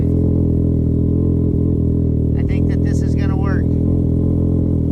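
A snowmobile engine idles steadily and loud up close, its low droning hum running throughout while someone speaks briefly over it outdoors in the cold.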